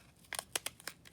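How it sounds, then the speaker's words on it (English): A few quick, crisp snips of scissors cutting paper, four or five short bursts spaced unevenly, close and fairly quiet. "you shouldn't use your fabric scissors to cut your paper"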